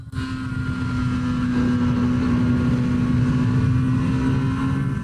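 A small, powerful motorcycle engine screaming on the road, a loud, sustained high-revving drone with a steady tone, close and continuous after a brief start.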